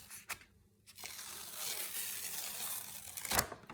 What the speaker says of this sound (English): Now I'm gonna peel it.